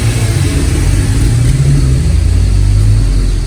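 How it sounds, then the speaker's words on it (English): A 2012 Chevrolet Utility with a 1.4 engine and stock exhaust revs up from idle: a steady, loud, low engine drone that swells slightly and holds as the throttle rises, heard up close with no talking. "Now she's gonna give it a rev."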